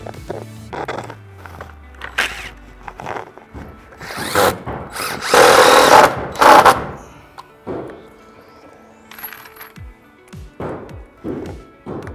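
A power drill drives screws into a pocket door track during a corner door installation, producing several short whirring bursts that build to one longer loud burst mid-clip, with knocks and handling noises in between.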